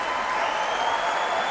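Concert audience applauding at the opening concert of the Early Music Festival Utrecht after an early-music ensemble performance, a dense, steady wash of many hands clapping throughout with no break.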